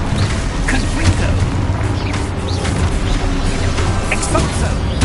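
Confringo explosion spell going off in the Hogwarts video game, a loud dense rumbling blast with crackling bursts that fills the whole stretch.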